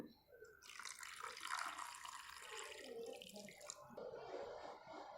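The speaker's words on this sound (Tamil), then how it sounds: "ஒரு கிளாஸ் தண்ணி கலந்துக்கலாம்" Water is poured and stirred into millet flour for kambu koozh, a continuous close, soft running-water and sloshing sound with no speech.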